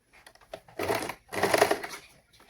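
A sewing machine stitches a saree blouse lining in two short bursts of close, rapid mechanical whirring, separated by a brief pause.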